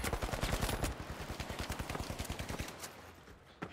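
Rapid bursts of goo gun fire in the first-person shooter The Finals: a fast, steady stream of sharp repeated shots that tails off after about three seconds, with no talking.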